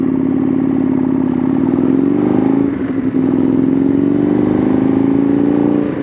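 Aprilia Tuono V2 motorcycle engine droning steadily at cruising speed, a loud continuous hum that rises slightly in pitch, dips briefly, then climbs again, close and without talk.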